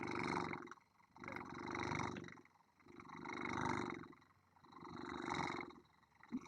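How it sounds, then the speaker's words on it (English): A cat purring close and soft, a steady rhythmic rumble rising and falling with each breath, about five slow cycles, alone without any talk. "Antoine, purr for the ladies, and Wren and Ish look great tonight."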